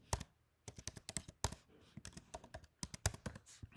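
Rapid, uneven clicking of computer keyboard keys as a new folder name is typed, with short bursts and brief pauses between keystrokes, close and fairly quiet.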